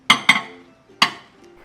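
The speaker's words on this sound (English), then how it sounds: "I'm going to tap the pan just to get the top nice and leveled." A cake pan filled with chocolate batter is tapped against a surface to level it, giving three sharp metallic knocks, two in quick succession and then a third after a pause, each ringing briefly.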